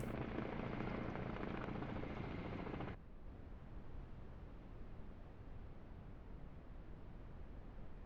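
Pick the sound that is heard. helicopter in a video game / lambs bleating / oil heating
helicopter in a video game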